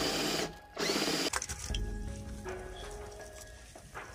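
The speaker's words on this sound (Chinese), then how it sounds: "但是我找到一个完美平替的方法，就是用电钻。" Electric drill used as a makeshift blender to grind lotus root in a home kitchen, a whining motor in short bursts with pauses and a rattling, grinding tail.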